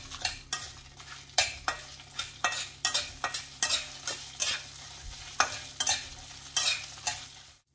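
Chopped onion, chilli and a handful of curry leaves fry over a medium flame in a pan, with a steady sizzle under regular scraping stir strokes from a spoon against the metal, close and fairly loud.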